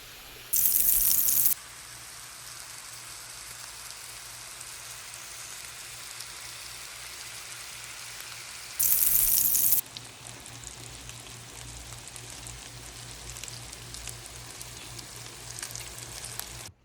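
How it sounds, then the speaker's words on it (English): Pork belly frying in a pan until crispy, a steady broadband sizzle running throughout at moderate level, with two brief louder hissing bursts near the start and middle; no voices. "we're gonna cook those until they're done and good and crispy"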